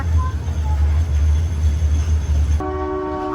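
A meter gauge train rolls into Veraval station with a steady low rumble throughout, and near the end a sustained horn tone cuts in as the rumble drops away.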